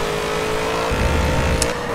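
A 1971 Ford Falcon XY GTHO Phase 3 accelerates in the Forza 7 racing game. Its engine tone is steady and loud for the first second, then thickens with a rougher, heavier low roar as the car pulls away.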